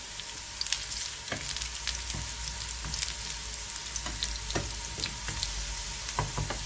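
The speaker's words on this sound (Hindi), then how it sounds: "अच्छे से फ्राई कर लेंगे। ग्रीन चिली और प्याज तकरीबन तड़के के लिए तैयार हो चुकी है।" Green chillies and onion frying for a tadka crackle and sizzle in a steady close hiss with scattered sharp pops and a few light stirring scrapes, with no voices.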